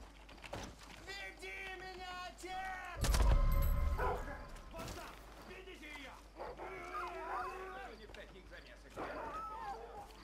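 A dog whimpers and howls in the video game Far Cry 5, with yelping cries rising and falling in pitch over a loud mid-clip impact burst, while someone talks over it.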